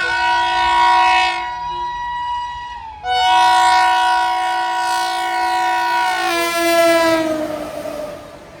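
Indian railway MEMU train approaching a station near Bengaluru, sounding a loud sustained two-tone horn, briefly cutting off and then blaring again as it passes close by, with a rumble underneath.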